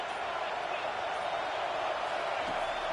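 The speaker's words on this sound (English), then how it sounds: "This crowd bringing the energy and noise early." Dense crowd noise fills a college football stadium during a Florida State at Florida game, a steady, loud roar of many voices with no break, heard from within the stands.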